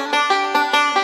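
Banjo lick from the tune Train 45, a quick run of about five bright plucked notes in steady rhythm, close and clear.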